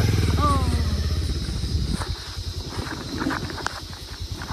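A motorcycle engine putters and revs at close range on a narrow off-road trail, with a steady low drone that eases off partway through, under occasional voices and rustling.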